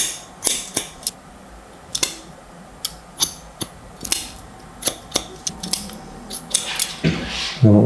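Scissors snip through medium-length curly hair during a haircut, giving a close, crisp series of sharp clicks in an irregular rhythm, sometimes in quick pairs, with no talking.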